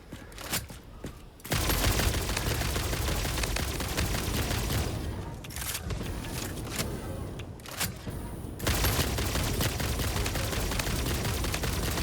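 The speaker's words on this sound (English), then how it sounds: "Oh, I love those smart rounds." Smart rifle rounds fire in the video game Satisfactory as a dense, sustained volley of rapid gunfire, broken by two short pauses and starting after a quieter opening, with no talking.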